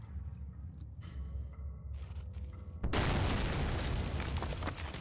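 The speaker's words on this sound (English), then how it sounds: "this could be an awkward explosion, to put it lightly" A sudden loud explosion in the horror video game Penumbra Overture bursts in after a quieter stretch of ambience and effects, followed by a sustained roaring rumble.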